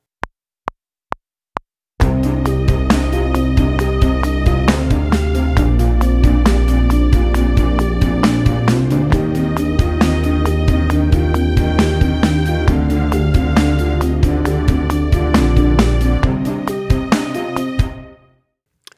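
A deep synth bass from a tweaked Apple Juice preset plays a sustained pattern after a few count-in clicks, steady and loud without voices, fading out at the end.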